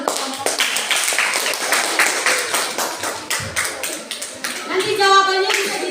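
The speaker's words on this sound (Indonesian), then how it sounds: "tepuk tangan untuk kelompok 3." A middle school class in Indonesia claps for a student group, a dense, brisk patter of many small hands, close and lively, with children's voices mixing in toward the end.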